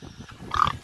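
Pigs kept on a small homestead give a short burst of grunting near the end, close and moderately loud, after quieter low rustling.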